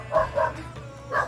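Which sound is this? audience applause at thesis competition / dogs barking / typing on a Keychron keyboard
dogs barking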